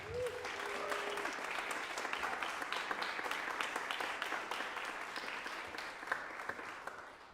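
A concert audience gives sustained applause for a percussion ensemble member, an even wash of many hands clapping throughout, moderately distant and fairly quiet, with a few sharper claps near the end.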